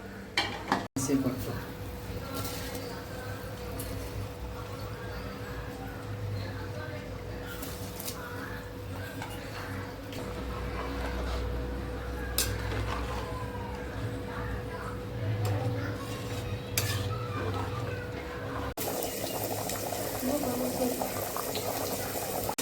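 Warmed water is poured onto rice in a pot for chicken biryani, a steady close splashing and bubbling sound that runs throughout, with scattered clinks of utensils.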